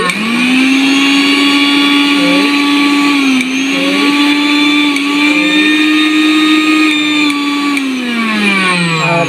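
A Vision electric blender runs loud and close with a steady high-pitched motor whine, dipping briefly a few times and winding down slightly at the end.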